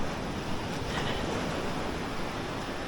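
Waves washing into a small rocky beach cove on the Alentejo coast near Cercal, a continuous broad surf roar mixed with wind noise on the microphone, with no voices.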